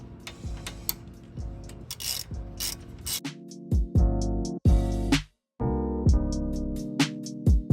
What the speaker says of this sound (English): I got my ratcheting wrench with my 12, and then we'll just go ahead and tighten this guy down.